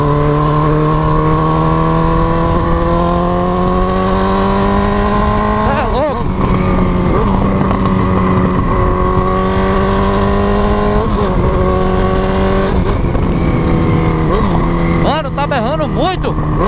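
A Honda CB1000 motorcycle with a straight-pipe exhaust revs hard and accelerates through the gears at night, close and very loud. The engine note climbs and drops again and again, with crackling pops between shifts.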